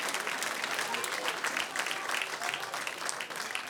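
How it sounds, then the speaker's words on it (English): A live concert audience in Vierzon applauds, a dense continuous wash of clapping from many hands that stays loud and even throughout. "Vous pouvez vous applaudir sincèrement parce que c'est énorme"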